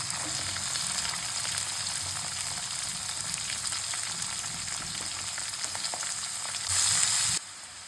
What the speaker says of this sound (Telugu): కొంచెం కరివేపాకు, 2 పచ్చిమిర్చి, ఒక 2 ఉల్లిగడ్డ చిన్నగా కట్ చేసుకొని వేగనివ్వాలి